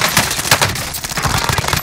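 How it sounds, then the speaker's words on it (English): Gunfire from a battle royale match in a shooter video game, a loud, dense run of rapid shots that fills the short stretch without a break, with no speech over it. "I got shot by like two people"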